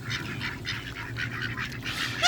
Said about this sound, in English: These white mallards.